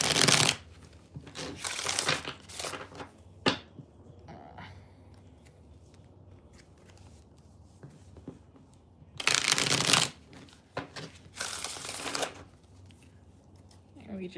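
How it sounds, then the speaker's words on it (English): Tarot cards shuffled during a live reading, in several loud, dense bursts of riffling near the start and again later, separated by quieter stretches with soft handling noise. "And we just shuffle."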